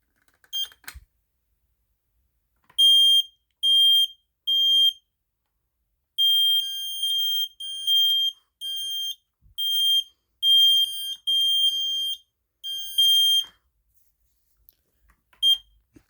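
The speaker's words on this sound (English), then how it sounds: "Let's go ahead and test the smoke alarms now" Smoke alarms sound during a fire alarm system test: short, piercing, high electronic beeps in irregular bursts, three at first, then a longer run of clustered beeps after a pause, with no talk.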